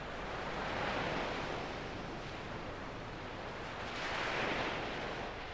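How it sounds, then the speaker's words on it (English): Steep ocean waves breaking in rapid succession on a flat sand beach, a steady loud wash of surf with two swelling crests, no voices. "Here on the flat sand beach, the waves are steep and they reach the beach in rapid succession."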